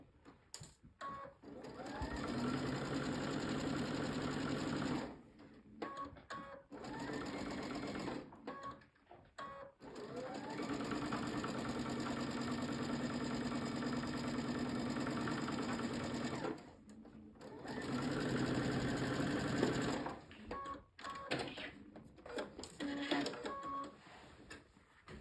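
A sewing machine stitches a partial seam in a quilt, its rapid, even whir running in several bursts of a few seconds each, separated by short pauses and handling clicks, with no talking.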